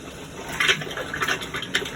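Water trickling and gurgling into an RV toilet bowl in a Jayco Jay Flight SLX travel trailer, a soft continuous flow with a few brighter splashes, close and fairly quiet.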